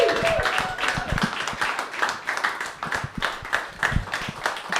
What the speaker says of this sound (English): get your clappers clapping for Joey Bombs